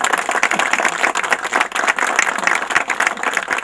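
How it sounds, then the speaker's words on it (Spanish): Applause from a crowd at an outdoor inauguration of new street lighting in Nico Pérez, steady dense clapping sustained throughout at fairly close range with no talk over it. "Ahí está, fuerte los aplausos"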